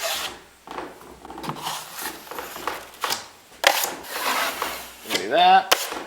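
An 8-inch drywall knife spreads and scrapes joint compound across a drywall seam in repeated rasping strokes, close and uneven, with brief pauses between passes.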